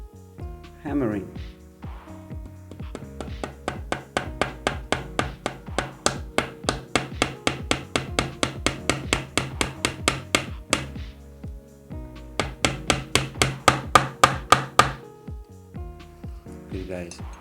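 A small metal pin hammered into the rudder of a model boat: long runs of quick, evenly spaced taps, close and crisp, with a brief pause in the middle before a second burst.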